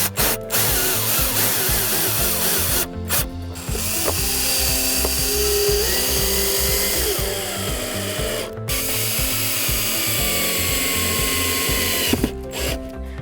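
A power drill driving a screw through a vinyl house shutter whirs and ratchets steadily in sustained bursts, with short pauses between runs and a clicking mechanical chatter throughout.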